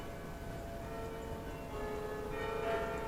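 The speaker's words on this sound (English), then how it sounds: "they're ringing the bells until she finally turns up" Far-off church bells toll quietly over a steady low rumble, their ringing tones swelling slightly toward the end.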